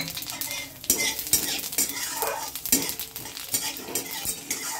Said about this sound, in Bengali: এই কালো জিরেটা এই তেলের মধ্যে হালকা করে একটু ভেজে নেব।